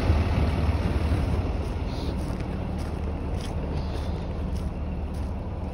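A moving truck runs close by on a neighborhood street, giving a loud, constant engine rumble with a windy hiss that never lets up.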